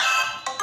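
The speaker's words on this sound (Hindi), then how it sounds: "इसको बोलते हैं अलार्म रिंगटोन।" Short bright electronic tones of an alarm ringtone playing from a Nokia XR20 phone, a sustained tone followed by two quick pulses, clear and close with no talking.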